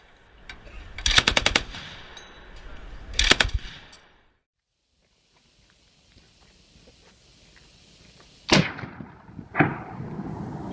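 Mounted KPVT heavy machine gun firing 14.5mm rounds, two loud rapid bursts followed by a quiet pause and then two more sharp bursts, each a dense crackling string of shots.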